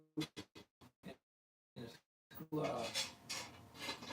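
Small metal screws clink and rattle into a metal can: a quick run of five or six separate clinks, a pause, then a denser jangle of metal on metal mixed with rustling and handling.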